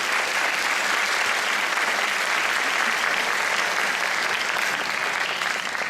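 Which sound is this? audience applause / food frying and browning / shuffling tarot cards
audience applause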